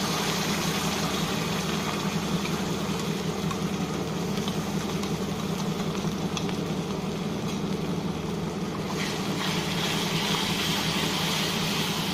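A mixer grinder whirs continuously while grinding green chillies into a paste, a steady buzzing motor hum with no pauses, close and fairly loud.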